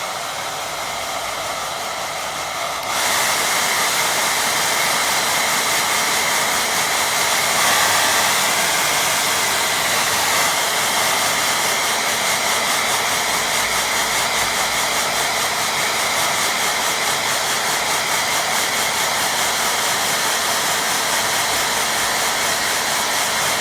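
A hair dryer whirs steadily for most of the span, blowing over a wet watercolour painting of a farmhouse, loud and close with a constant airy roar that kicks in after a few seconds of quieter hiss.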